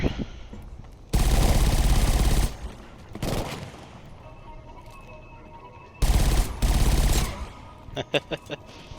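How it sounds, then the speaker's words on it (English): Bursts of video game machine gun suppressing fire, two long loud sustained volleys separated by quieter stretches, followed by a few short sharp shots toward the end. "Get the suppressing fire down in that position."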